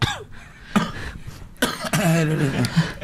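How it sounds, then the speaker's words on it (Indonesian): A few sharp coughs burst out between stretches of voiced sound, fairly close and loud, with talk or laughter around them. "lah kok iya, gue juga jadi jadi batuk gue kok anda batuk"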